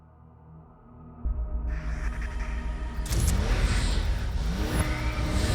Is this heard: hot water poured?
no